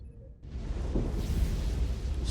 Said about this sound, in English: Storm surge. The storm is getting worse.